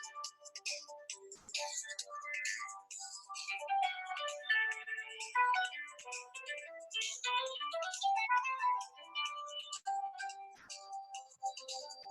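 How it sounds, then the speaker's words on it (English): A mobile phone rings with a busy, continuous electronic melody of bright chiming tones, moderately quiet and steady, with no talking. "my phone was ringing"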